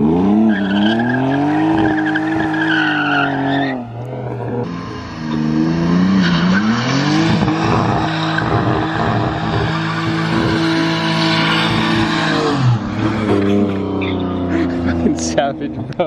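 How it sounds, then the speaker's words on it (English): A BMW E46 drifts with a loud, sustained engine roar and long wailing tire squeal, rising and falling through the slides, while people talk and shout over it. "So we might be able to actually drift this car for you guys."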